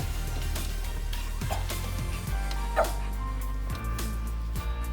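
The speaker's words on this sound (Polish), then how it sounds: "Co ten pies tam?" A dog yips and barks in short intermittent bursts over a constant low motor drone, close by, while people work on old Romet motorbikes in a house full of treasures.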